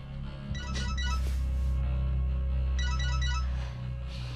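A phone rings in repeated electronic bursts over a low steady hum, loud and close, two clear ringing phrases with a pause between, no talking.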